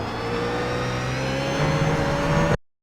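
A BMW Z4 GT3 race car in a sim racing game at Zandvoort holds a sustained full-throttle engine drone that climbs slightly in pitch while accelerating, then cuts off abruptly. Loud and steady, with no talking.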